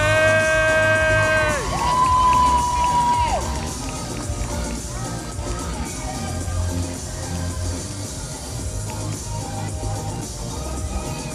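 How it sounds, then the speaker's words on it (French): A large crowd at a cosplay festival in Vannes cheering and clapping for the judges, loud and sustained, with whoops and shouts mixed into the continuous applause. "Je vais vous demander d'applaudir aussi encore une fois nos jurys, s'il vous plaît."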